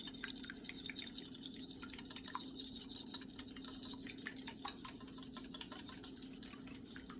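An egg being whisked for an egg wash: a fast run of light, steady ticking clicks of a whisk against a bowl, quiet and close, continuing without pause and with no talking.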